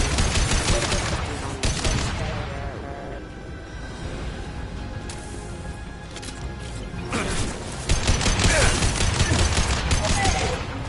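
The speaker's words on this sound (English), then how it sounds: "Taking fire." Rapid bursts of gunfire from the Mass Effect 2 video game, loud and dense, with heavy volleys at the start and end and a thinner stretch between, a voice briefly heard under the shooting.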